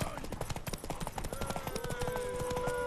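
Rapid horse hoofbeats clatter in a quick galloping rhythm in the video game The Witcher 3, with shouting voices and music over them.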